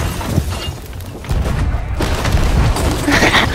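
Enemy gunfire strikes a boat in a pirate video game, heard as booming thuds and sharp shattering impacts in a brief, loud cluster with little talk.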